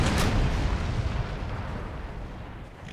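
A volley of 6-pounder cannons fires in Empire Total War, a loud close burst of overlapping booms at the start that rolls into a long, fading rumble.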